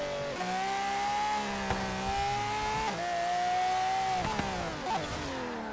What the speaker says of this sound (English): This car sounds good.